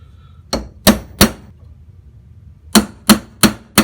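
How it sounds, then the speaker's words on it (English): Sharp metallic strikes of a hammer on a center punch against a 4th-gen Camaro/Firebird fender: three quick taps, a short pause, then four more in an even rhythm, close and ringing. "So the first thing we're gonna do is do some center punching"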